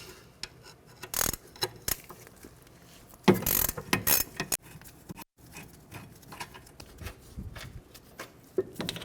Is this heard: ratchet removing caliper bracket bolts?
yes